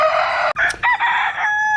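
Several chickens in a mixed-breed backyard flock in a chicken tractor, with a rooster crowing loudly and close up, then clucks and calls continuing without a break.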